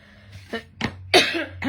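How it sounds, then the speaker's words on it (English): Three or four short, harsh coughs from a person with a dry throat, close and distinct, separated by brief pauses. "I'm sorry about my coughing"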